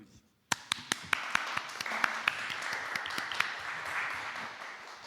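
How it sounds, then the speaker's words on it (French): Applause from a small audience after a talk, starting abruptly and made up of scattered individual claps that settle into a steady patter, fairly close and with no voices over it. "moi je vous applaudis"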